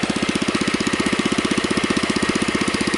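A Husky riding mower engine, freshly run after a carburetor cleaning, chugs at a steady idle with a fast, regular pulsing beat, loud and close, and no talking.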